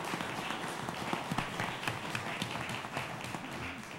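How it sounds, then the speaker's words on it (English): Audience applause at a 2012 city commission candidates' debate in Kissimmee, a steady patter of many hands clapping at moderate loudness and continuing across the whole stretch with no voices over it. "Let's have a big round of applause for all of our candidates for being here today."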